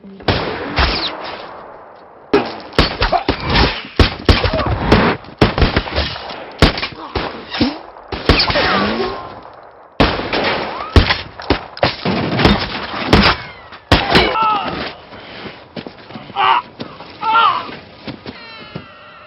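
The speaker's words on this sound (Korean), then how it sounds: "일라이는 미쳐버린 사격 실력으로 카네기의 부하들을 처리하고" Rapid gunfire from a movie shootout in a post-apocalyptic film, loud bursts of shots and impacts with clustered sharp cracks, brief pauses and mixed action noise throughout.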